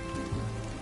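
Steady rain falls in the video game Death Stranding 2, a dense, even hiss of drops on surfaces that runs unbroken for under a second with no voices.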